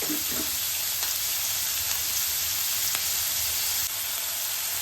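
Onions sautéing in a pan for mushroom pepper gravy, a soft continuous sizzle with a few faint clicks of stirring, close and without talk.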